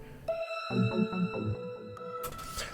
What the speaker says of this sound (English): It's kind of steel drums there.